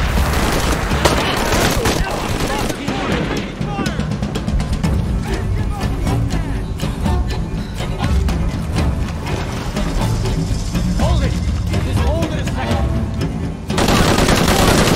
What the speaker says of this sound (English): How was he shooting randomly?